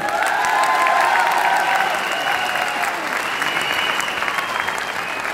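A large audience breaks into loud, sustained applause at a live gathering, dense and even for several seconds, easing slightly toward the end with faint cheering mixed in.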